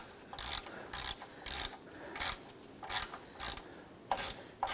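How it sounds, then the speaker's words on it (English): A ratchet fitted with a 13mm socket loosens the oil pan drain plug on a 1993-1997 Ford Ranger, giving about eight short bursts of rapid clicking separated by brief pauses, close and fairly loud. "I'm going to use a 13mm socket with our ratchet. Go ahead and loosen and remove our drain plug for our oil pan."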